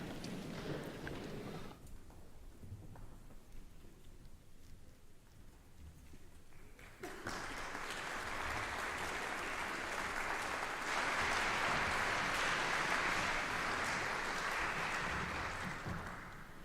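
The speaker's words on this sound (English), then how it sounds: "Huge round of applause as they come to the stage" Applause from the audience at a brass band championship, starting with an opening burst that fades briefly, then swelling at about seven seconds into loud, sustained clapping that holds steady to the end.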